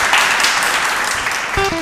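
A studio audience at a Spanish school quiz show, "¿Cuánto sabes?", gives the contestants a loud, steady burst of applause that fills the whole moment, with a brief tonal sound rising near the end.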